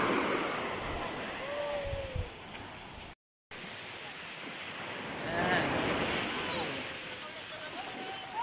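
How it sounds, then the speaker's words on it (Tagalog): Rough ocean waves seen from a moving boat off Calabanga, Camarines Sur, with a steady wash of surf and heavy wind buffeting the microphone, continuous throughout with a brief dropout. "sobrang alon ngayon guys."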